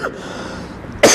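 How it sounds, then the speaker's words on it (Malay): A single short cough bursts out at the very end of a Malay-language Ramadan religious lecture, after a moment of quiet room tone. "minta maaf tuan-tuan, batuk sikit."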